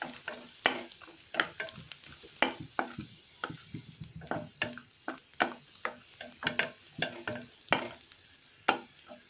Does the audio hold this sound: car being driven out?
no